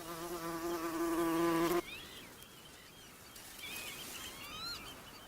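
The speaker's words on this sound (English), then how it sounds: "the Macaire hums with rare bees like the moss carder and the great yellow bumblebee" A steady bumblebee buzz hums loudly at first, then cuts off, leaving a quieter outdoor background with a few distant chirps.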